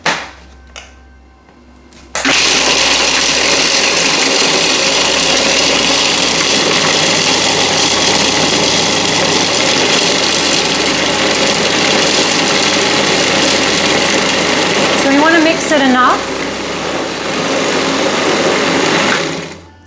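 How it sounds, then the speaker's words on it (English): Food processor chopping nuts and dates switches on after a short quiet start, then runs as a loud, continuous close whirring drone with brief shifts in tone as the mixture churns. "But a processor, of course, is going to be much easier and get better results."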